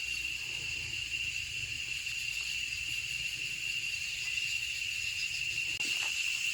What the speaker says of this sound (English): The cicadas are out.